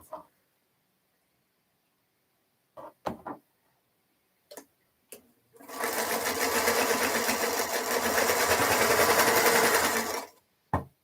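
Sewing machine stitching across a seam in a fast, continuous rattling run of about five seconds, close and loud, after a few short isolated clicks and starts in near-silence.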